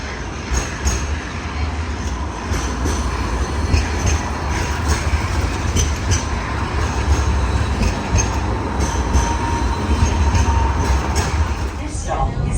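A Sydney light rail tram at night during the Vivid festival, arriving and running with a steady loud rumble, rail clatter and faint wheel squeal, with station bustle and some voices in the background.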